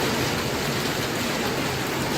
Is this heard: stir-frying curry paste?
no